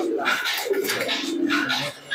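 Close, full-voiced cooing from Teddy and Malbai pigeons, repeated rolling phrases filling the moment and easing off briefly at the end.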